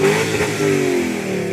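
The 4.4-litre engine of a Range Rover in good condition revs up, a short loud rising growl from close by.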